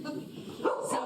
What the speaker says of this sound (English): We apologize for the barking.